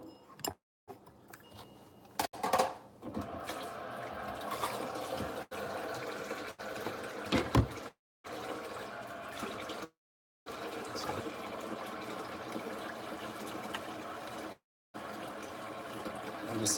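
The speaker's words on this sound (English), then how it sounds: "Take a sponge and put some soap and water on it and let it soak." Water runs and trickles onto a soapy sponge set to soak, a steady wet splashing that stops and starts in short gaps, fairly close and moderately loud.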